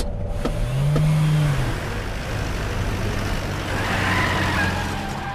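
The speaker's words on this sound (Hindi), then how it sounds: "वाह भाभी जी, आपने तो गाड़ी चलाना सीख ली" A car is driven and accelerates, its engine humming steadily with a rising whine as it speeds up. The motor sounds close and loud, with no voices.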